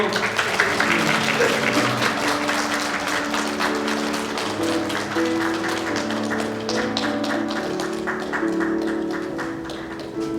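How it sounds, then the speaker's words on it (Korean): A church congregation claps during a flower presentation, with rhythmic, fairly even clapping over sustained organ or keyboard tones and some voices in the background, gradually easing toward the end. "우리 박수로"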